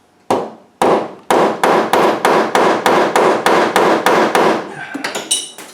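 About thirteen sharp metallic hammer blows in a steady rhythm, loud and close, each ringing briefly, followed by a few lighter taps, as a captive nut is hammered into a drilled hole on a Land Rover with a 300Tdi engine.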